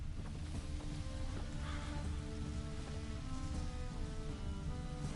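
Steady rain falls in The Witcher video game, a constant broadband hiss that stays loud and even throughout, with low rumbling underneath and no voices.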